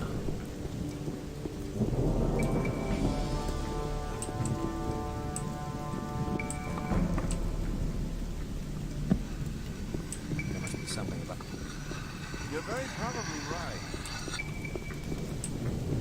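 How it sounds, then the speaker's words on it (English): Steady rain with rolling thunder in the video game Gothic, a continuous downpour hiss beneath deep rumbles, with game music tones and someone talking over it. "it sounds like it's raining again, which I hate"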